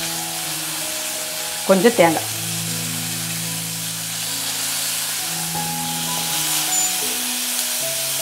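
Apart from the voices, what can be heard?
turkey berries sautéing in oil with dried chillies and garlic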